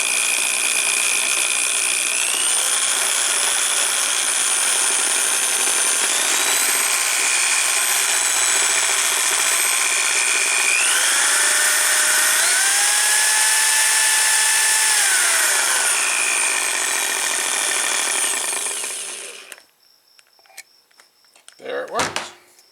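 An electric drill spins a motorcycle tachometer's gear drive during repair, giving a steady high whine with shifting tonal sweeps as the speed changes, running continuously for about twenty seconds before cutting off to a few faint clicks.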